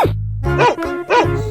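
A dog barks in an animal video game, two or three close, bright barks over a steady low game-music hum.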